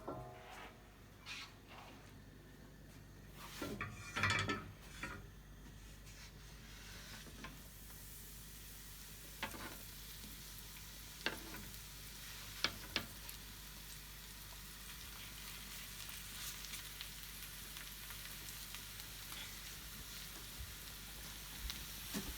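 Food sizzles and hisses steadily in a frying pan while green pancakes are being cooked, with a few sharp clatters of stirring and utensils early on, then a continuous close fry.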